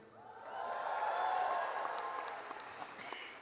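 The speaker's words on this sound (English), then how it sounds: "Graduates of 2022, this is where you cheer." Graduates at the Southern Connecticut State University 2022 undergraduate commencement break into applause and cheers that build over a second, hold steady, then taper, with scattered whoops rising out of a large, reverberant crowd.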